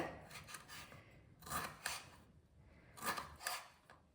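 Quiet crisp slicing through firm raw mango, a few short scraping cuts in bursts with pauses between, close by and faint.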